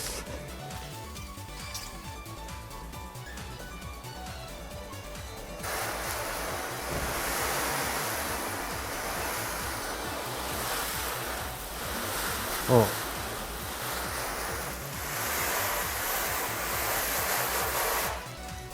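Water sprays over a car during a wash with a foam wax shampoo, first as a softer hiss, then a louder, broad, steady rush of spray from about a third of the way in, with a brief knock partway through.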